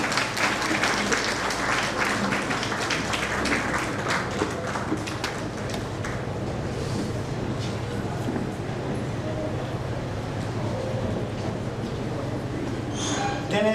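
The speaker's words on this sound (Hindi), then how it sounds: "आप भी जोरदार तालियों से मनाई करें।" Audience at a book release ceremony in India gives sustained applause, a dense steady wash of clapping from a crowd throughout, with some background murmur.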